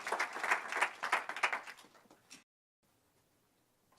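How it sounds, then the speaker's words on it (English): An audience at a Pennsylvania manufacturing policy event applauds a state secretary, a brisk burst of many clapping hands lasting about two seconds before cutting off to near silence. "let's all give Secretary Dem a great round of applause, and for giving up so much of his time."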